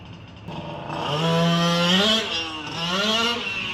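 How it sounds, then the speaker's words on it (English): A small nitro-fuelled RC car engine buzzes somewhere down the street, a steady high-pitched whine that rises and falls as it revs, moderately loud and unbroken for the whole stretch. "there's someone down the street running their nitro RC car, so it's gonna be loud"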